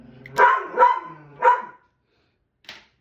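Three sharp dog barks in quick succession, then a pause and a fainter fourth bark, close by with no talking.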